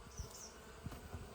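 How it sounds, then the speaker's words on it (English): Bees crowd a hive lid during an inspection, a faint steady insect buzz with a few brief louder passes close by. "there's a lot of bees on the lid"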